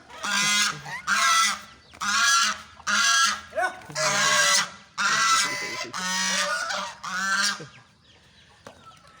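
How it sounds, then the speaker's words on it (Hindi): A duck kept with poultry on a farm honks and squawks loudly and close by, giving about eight harsh calls in a steady rhythm before falling quiet. "ये बत्तख अटैक कर देती है।"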